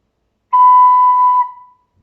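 A single clear recorder note is blown and held for about a second, pure and steady, then fades out into silence.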